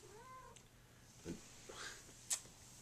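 A house cat meows a few times, short soft calls spaced apart with a brief higher squeak near the end, fairly close and quiet in a still room.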